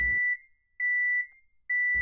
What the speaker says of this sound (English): Next, I put the alarm sound in Audacity. Change the pitch.